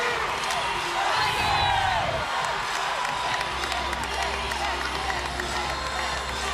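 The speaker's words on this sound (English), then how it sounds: "Sticks that landing. The crowd goes wild." Crowd cheering and shouting erupts after a gymnast sticks the landing of a full twisting double back dismount off the uneven bars at a Clemson college gymnastics meet, loud and sustained, with a commentator talking over it and clapping mixed in.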